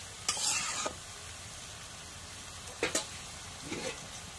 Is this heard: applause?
no